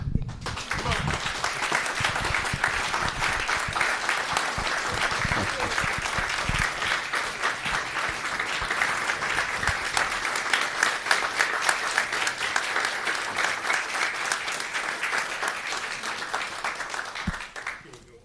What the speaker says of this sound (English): give him a hand clap of praise, please